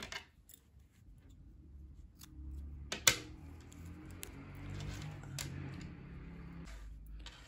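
Scissors snip through crochet yarn in a quiet room, giving one sharp close cut and a few soft clicks against low background noise, with no talk.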